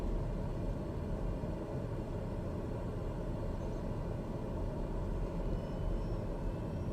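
A TBM 930 turboprop engine drones steadily in a flight simulator, a constant, loud low rumble with a broadband whoosh and no voices.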